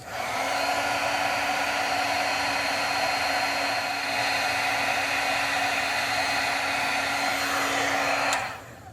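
Heat tool blowing on chunky gold glitter from underneath, a steady loud blowing hiss and motor hum held evenly for several seconds before cutting off abruptly.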